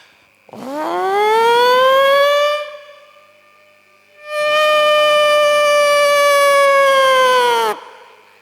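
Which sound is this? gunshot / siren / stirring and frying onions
siren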